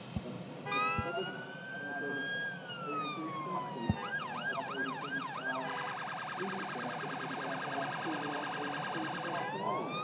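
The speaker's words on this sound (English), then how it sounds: "Ambulances of all shapes and sizes today." An ambulance siren sounds loud and close, shifting from a long rising and falling wail into a fast, steady yelp that continues to the end. Soft background noise sits underneath, and no one speaks.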